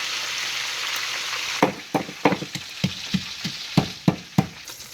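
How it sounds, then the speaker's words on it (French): Red snapper frying in hot oil, a constant hiss of bubbling oil broken after the first second and a half by a quick series of sharp scraping stirs and clacks, close and alone. "So make sure you have your oil hot before you put the fish inside"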